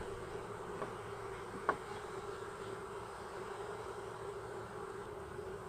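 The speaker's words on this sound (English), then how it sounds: "I'm just gonna try and knock these bees into here." Honeybees buzz around a small mini nuc hive in a steady, faint droning hum, broken by a single sharp knock partway through.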